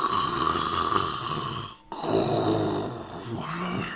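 A voice imitates an ogre's thunderous snoring during a Dungeons & Dragons game: loud, rumbling, grunting breaths that break off briefly in the middle and then resume, with no other sound competing.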